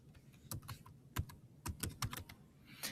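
Keys clatter on a computer keyboard in a short burst of uneven taps, close and fairly quiet, as a word is typed.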